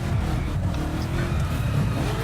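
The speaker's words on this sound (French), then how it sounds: "une fois qu'on accélère, si j'arrive à atteindre la vitesse suffisante ici" Koenigsegg Agera R accelerating, a steady, loud engine roar with dense low rumble filling the whole stretch, heard close with no talking.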